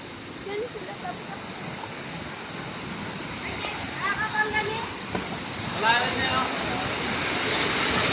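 Water at Signal Falls in Biaan, Mariveles, Bataan pours in a steady, broadband rushing roar that fills the whole stretch, with people talking faintly over it.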